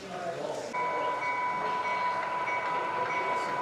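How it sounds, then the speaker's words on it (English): A motorized LEGO train on a large layout plays its built-in sound effect, a steady electronic horn-like tone over a continuous rumbling hum of the running trains, with faint background chatter. "he decided to fire up the trains for us. And not only are they motorized, but they also have working lights and also working sound"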